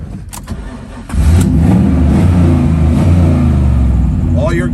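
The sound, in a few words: 1967 Chevrolet Nova engine starting and revving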